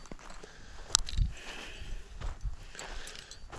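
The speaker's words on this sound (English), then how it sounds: "I just want to hear footsteps" Footsteps of a hiker on a back country trail among pinyon pine and prickly pear along an old road, soft irregular crunching steps close by with no talking.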